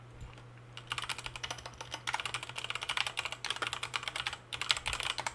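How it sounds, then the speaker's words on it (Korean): A computer keyboard being typed on automatically by a macro program, with rapid, regular key clicks in dense bursts after a short quiet start, close and alone over a faint low hum. "여기 클릭을 한 다음에 키보드도 입력을 한번 해보도록 하겠습니다."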